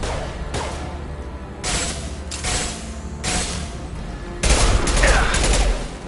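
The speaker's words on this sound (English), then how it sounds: "Firing an impact shot." Gunfire in the Mass Effect video game, with several loud bursts of rapid shots, an impact shot among them, coming in spaced volleys and ending in a heavier, sustained barrage.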